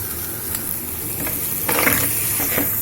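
Quarter kilo of crab sizzles and fries with masala of pepper powder, turmeric and salt in a pan, a loud continuous hiss with occasional stirring scrapes, no voices.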